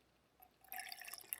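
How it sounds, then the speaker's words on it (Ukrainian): Alcohol fuel is poured into a Trangia spirit burner outdoors, giving a faint, quiet trickle of liquid that builds into soft splashing and dripping. "Горілку наповнюю на 2/3 об'єму"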